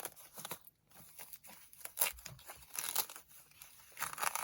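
Gift wrapping on a small box being cut and torn open, with crisp paper crinkling and ripping in irregular bursts up close, no speech.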